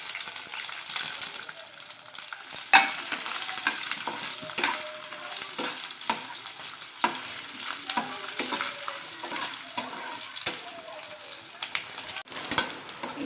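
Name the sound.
bombil (Bombay duck) fish frying in hot oil in pan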